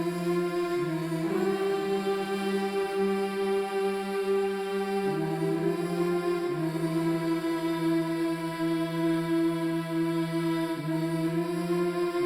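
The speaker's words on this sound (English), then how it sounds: "I then went and doubled it with this patch from the Solstice library," Spitfire Solstice Mystics infinite choir patch sings long, unbroken hummed mm tones, held chords gliding to new pitches every few seconds without breaths, steady and smooth throughout.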